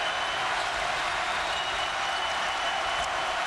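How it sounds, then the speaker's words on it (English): Basketball arena crowd at a UNC game against Maryland roars and applauds on its feet, a loud, unbroken wash of cheering that fills the whole moment. "Crowd on its feet."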